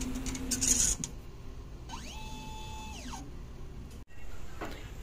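Inkjet printer running a nozzle test after a head cleaning, with a whirring carriage pass that rises and falls in pitch, followed by a short clunk and mechanical shuffling.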